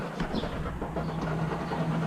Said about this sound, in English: So apparently whatever is on this side of the transmission or the gear shift is rubbing against something.